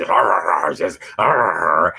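A voice imitates a dog aggressively barking and growling, giving rough, loud vocal bursts in two main stretches with a brief gap between them.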